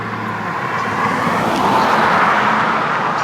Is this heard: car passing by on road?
yes